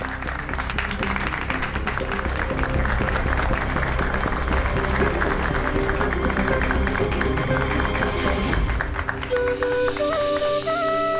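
A crowd claps in a steady, dense wash of applause that runs throughout, blended with music whose tones come forward near the end.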